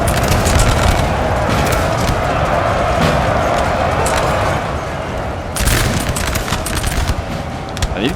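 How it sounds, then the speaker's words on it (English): Musket volleys from troops in the battle game Napoleon Total War, a continuous loud crackle of massed gunfire and booming with no letup, dense and layered across the whole stretch. "they're shooting their own retreating troops"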